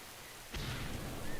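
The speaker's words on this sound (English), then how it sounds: "And of course it's raining." A sudden loud thunderclap in World of Warcraft cuts through quiet rainy-weather ambience and rolls on as a rumbling boom.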